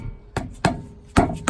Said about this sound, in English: So now we're going to try to just hit it with a hammer a little bit,